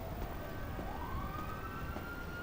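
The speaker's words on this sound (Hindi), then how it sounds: "या सायरन बज गई, वो दिख रही है मुझे" Fire truck siren in the video game GTA 5, a rising wail held steady and sweeping, moderately loud over constant background game noise throughout, with no talking.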